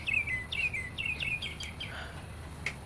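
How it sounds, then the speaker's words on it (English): Birds sing outdoors in a series of quick, bright chirped phrases, fairly near and repeating in a rhythmic run, then trailing off into softer calls over a faint low background murmur. "Just let the birds sing in the background for a minute"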